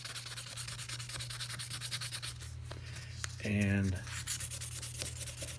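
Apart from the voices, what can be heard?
sanding knife with 1200 grit sandpaper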